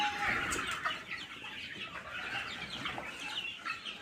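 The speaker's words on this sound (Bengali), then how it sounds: "এই যে এই যে সব সোনালি মুরগি, এগুলো সব বড় বড় হয়ে গেছে" A large flock of Sonali chickens, about 800 to 850 grown birds, clucks continuously inside a crowded poultry shed. Dense, overlapping cackles sound close and steady throughout, with no talking.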